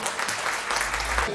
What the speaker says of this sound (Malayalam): എല്ലാവരും കൈയടിക്കുന്ന